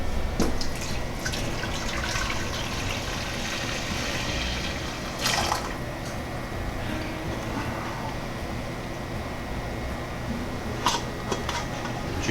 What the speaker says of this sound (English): Pour this back in